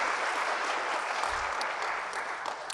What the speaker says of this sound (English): I join in the applause